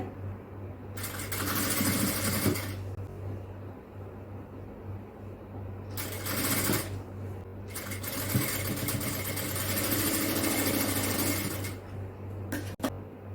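A sewing machine stitches a designer inskirt in loud bursts of rapid running, with a steady low motor hum and short pauses between runs, and no talking.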